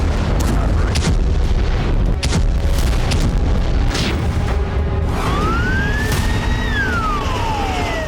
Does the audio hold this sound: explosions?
yes